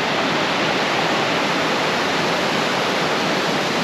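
Fresh river water rushes steadily beside a riverside lunch spot on the Gagangir to Nichnai trek, a dense, even broadband roar that stays constant and close throughout with no voices.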